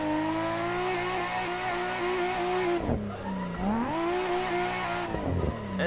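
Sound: tandem drifting car tires squealing in a racing video game

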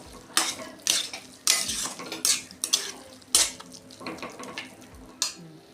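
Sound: mashing potato with a spoon in pan

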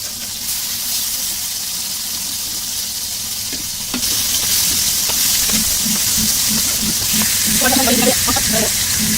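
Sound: pangas fish frying in hot oil

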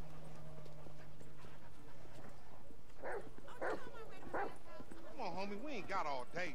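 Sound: dog Chop barking in video game GTA V

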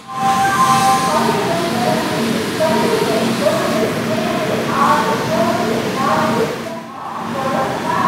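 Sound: Kanniyakumari-Chennai Egmore Superfast Express train at Chengalpattu station

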